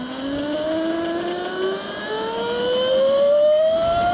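A 72V Yozma IN 10 electric supermoto accelerating at partial throttle: a steady whine climbing smoothly in pitch over about four seconds, with wind and road noise close by and no talk.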